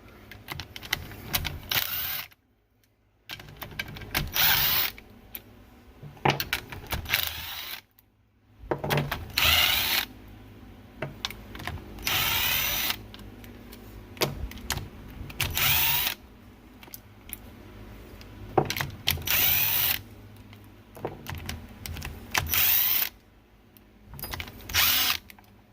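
A power tool runs in repeated bursts of a few seconds each while removing the oil pan bolts from a Willys MB, with brief gaps between the runs and ratcheting mechanical sounds.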